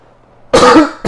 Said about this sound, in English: I'm just very coughing tonight